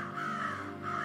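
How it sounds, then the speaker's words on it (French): Crows caw in a flock, drawn-out harsh calls rising and repeating over a steady background, fairly near and alone without speech. "des volées de corbeaux arrivaient des 4 vents du ciel."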